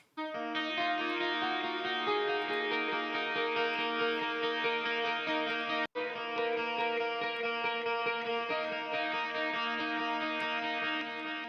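Clean electric guitar tone run through a 1176 compressor for a lo-fi black metal recording, sustained ringing chords with a brief gap midway, even and compressed, played alone.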